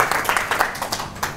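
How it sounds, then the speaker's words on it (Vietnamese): A short burst of applause from an audience at a talk, with uneven clusters of claps rising and falling over about a second and a half and no voices over it. "Chúng ta cho tràng pháo tay cho phần phát biểu của anh."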